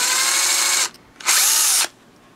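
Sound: power drill drilling through bottle caps for fishing lure

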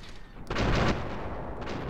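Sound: gunfire in the video game Fallout 3

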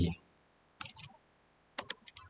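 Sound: computer keyboard shortcuts and mouse double-clicks

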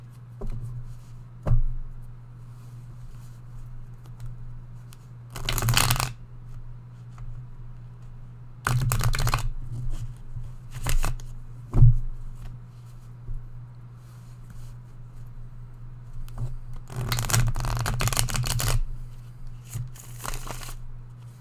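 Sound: shuffling cards for a card reading

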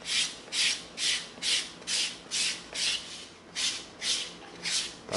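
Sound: sanding EVA foam with a 220 sanding stick

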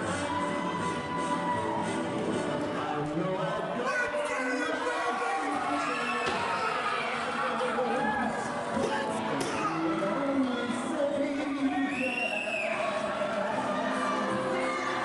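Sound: crowd cheering as wrestlers' entrance music plays

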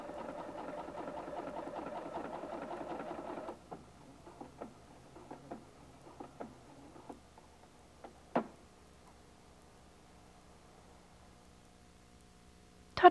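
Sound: Husqvarna Viking Platinum 770 sewing machine sewing a decorative stitch

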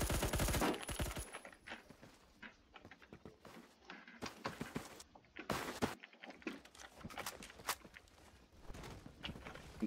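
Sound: gunfire in a video game

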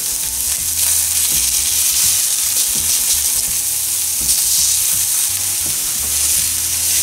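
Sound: Jimmy Dean sage sausage and onion frying in pan

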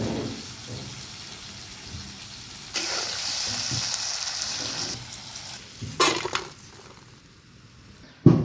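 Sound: chopped onion and tomato frying in pan

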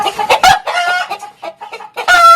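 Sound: chickens clucking

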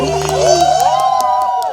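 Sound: audience applause and cheering for the band

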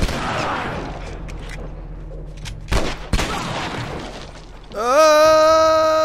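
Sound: shotgun gunfire in the video game The Last of Us

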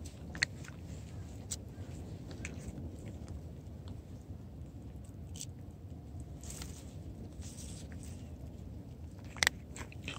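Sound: stray cat biting and tearing at something

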